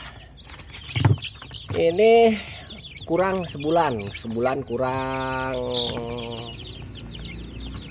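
Young chicks, under a month old, clucking and peeping in short bursts near the microphone, with a person talking quietly over and between the calls.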